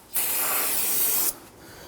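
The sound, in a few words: spraying solvent cleaner on a brake master cylinder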